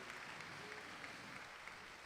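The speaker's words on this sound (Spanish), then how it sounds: "Si quiere aplaudir al Señor," Church congregation clapping during a Sunday morning service, a steady, fairly faint wash of applause lasting about two seconds with no talk over it.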